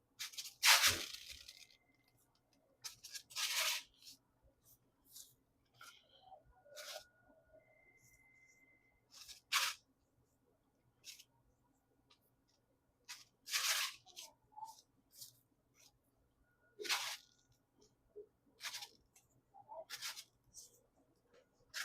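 Knife slicing through a peeled beef knuckle (sirloin tip) and trimming fat, heard as scattered short cutting and scraping strokes in a quiet room.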